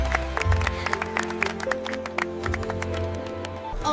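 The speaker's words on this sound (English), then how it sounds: "Clap for the floating numbers." Sharp claps ring out in an irregular series over a steady musical backing, each one a crisp, bright snap fairly close up.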